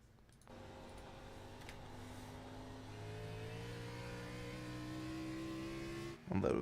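In-car engine audio from an Xfinity Series race car in a racing video game at Nashville Fairgrounds, a single engine rising steadily in pitch as it accelerates, heard alone and fairly close.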